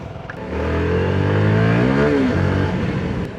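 A CF Moto NK300 motorcycle engine starts up and revs, its pitch climbing then dropping back to a steady idle, loud and close.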